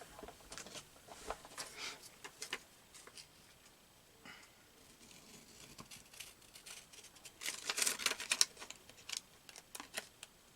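Scissors snip paper while a coin envelope is made, a run of small crisp cuts and crinkles close by and quiet, with a busier burst of snipping near the end.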